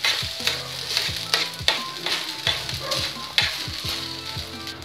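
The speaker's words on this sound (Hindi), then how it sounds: "सोया सॉस डाल के हमें इसे चलाना है।" Rice stir-fried with soy sauce in a pan sizzles steadily while a spatula scrapes and knocks against the pan in repeated strokes, close and fairly loud, with no talking.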